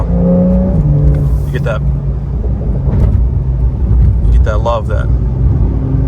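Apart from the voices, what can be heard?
Porsche 911 engine revving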